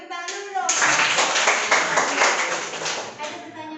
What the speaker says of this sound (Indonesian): Kita tepuk dulu dong